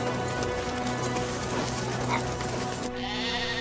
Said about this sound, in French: Dans la neige, les huskies sont vraiment dans leur élément.